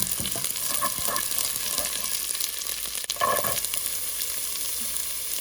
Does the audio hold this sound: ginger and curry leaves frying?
yes